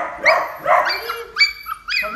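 Golden retriever and Labrador puppies give a string of close, high yips and barks, the excited Labrador especially vocal, with several short calls in quick succession.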